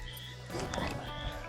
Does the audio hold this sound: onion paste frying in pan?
no